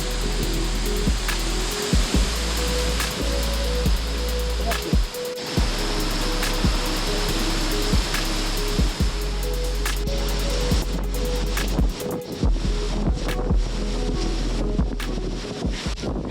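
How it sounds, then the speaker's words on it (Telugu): Kalu Waterfall in Maharashtra plunging with strong force, a loud continuous roar of falling water mixed with heavy gusting wind buffeting the microphone in repeated thumps. "మామూలుగా లేదు, వాటర్ ఫాల్ చాలా ఫోర్స్ గా ఉంది."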